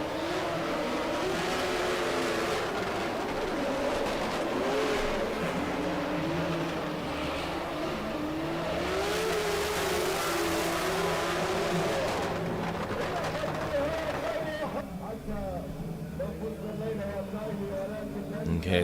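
Drift car at an international drift championship final in Oman, driving back to the start line with rubber picked up on its front tyres; a steady engine drone with revving runs throughout under continuous commentary and crowd noise.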